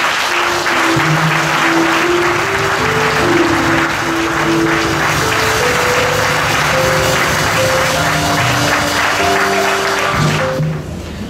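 A church congregation claps steadily through an Easter Sunday service, dense and loud, while sustained organ or sung tones carry beneath the applause before it fades at the end.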